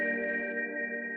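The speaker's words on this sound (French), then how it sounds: "la reverb infinie" Infinite reverb effect in Ableton, a sustained, frozen tonal wash holding steady harmonic layers without decay, smooth and even throughout.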